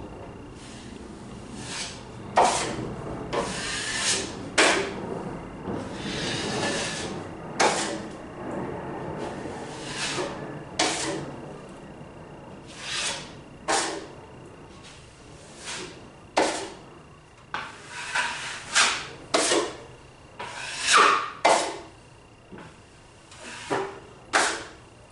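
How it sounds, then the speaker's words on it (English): A drywall knife scrapes excess mud off a garage wall in a series of sharp, repeated strokes, each a short rasping swipe separated by brief pauses. "You put a lot of mud on, then you scrape most of it off."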